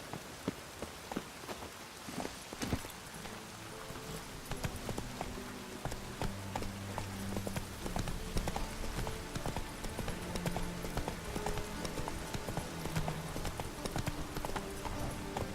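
Horse hooves clip-clop in The Witcher 3 as the mount picks up pace from scattered steps into a fast, steady galloping rhythm, close and clear over a soft rain-like patter and faint game music.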